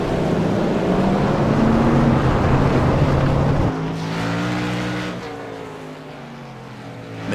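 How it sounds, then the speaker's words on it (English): Race car engine at Sonoma Raceway throttling on a victory lap after a Wounded Warrior Project Cup Series race, a loud continuous roar with rising and falling revs that eases slightly toward the end. "Making his final lap around the track, taking a victory lap."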